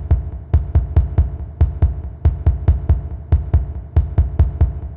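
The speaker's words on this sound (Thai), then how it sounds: "มันคือเสียงหัวใจเต้นของโอเรนนั่นเองฮะ" Heartbeat beat from the horror mode of Incredibox Sprunki, a rhythmic music game: a heavy, throbbing low thump repeats in steady clusters of four, loud and upfront with a droning hum beneath and no voices.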